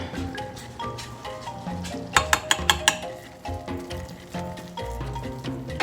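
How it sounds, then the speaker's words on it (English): Butter and flour roux cooking in a small saucepan: a soft sizzle under steady stirring, with a quick run of sharp utensil taps against the pan in the middle and background music throughout. "We're just gonna melt our butter right in this little saucepan. Now we're gonna add our flour in there."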